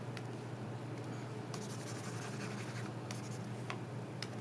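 Eraser rubbing across a board to wipe away math working, soft scratchy strokes in short bursts over a faint steady background hum, no voices.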